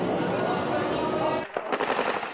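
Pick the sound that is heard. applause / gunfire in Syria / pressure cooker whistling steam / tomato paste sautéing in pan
gunfire in Syria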